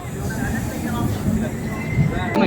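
Sealdah–Puri Duronto Express passenger train rolling and switching onto another line, heard from inside as a loud low rumble of wheels and carriage with faint squeals, voices in the background.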